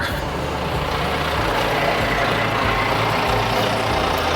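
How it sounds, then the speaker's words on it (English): A tour bus drives past on a street by Bath's Royal Crescent, its heavy diesel engine rumbling loud and close with a steady drone and some rattling over a few seconds. "there's a bus going past doing its tour"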